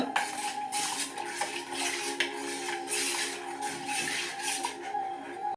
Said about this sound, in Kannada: ಹಿಟ್ಟು ಚೆನ್ನಾಗಿ ಮಿಕ್ಸ್ ಮಾಡಬೇಕು ನೋಡಿ, ಗಂಟಿಲ್ಲದಾಗೆ ನೋಡಿ, ಈ ಥರ ಮಿಕ್ಸ್ ಮಾಡಬೇಕು